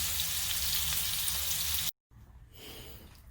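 A ribeye steak sizzles steadily in the pan during a reverse sear, a dense close crackle that cuts out briefly before resuming more quietly.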